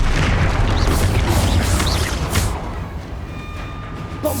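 A Bombarda spell explosion in Hogwarts Legacy lands as a loud, heavy boom that rumbles for about two seconds, then fades into quieter crackling debris and a thin ringing tail.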